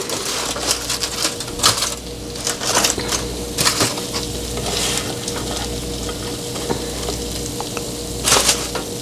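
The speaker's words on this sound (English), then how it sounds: "Can you hear that sizzling?" Steady sizzling of catfish pieces frying in hot oil, with crackles and scraping of a utensil throughout; no voices.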